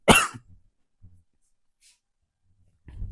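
A single sharp cough from a teacher during a science lecture at the start, followed by quiet breathy rustles and a faint low murmur near the end.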